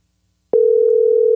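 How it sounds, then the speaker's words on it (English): An outgoing WhatsApp call tone starts abruptly after a short silence and holds as a single loud, steady electronic tone with no voices over it. "Oh, it's calling through WhatsApp."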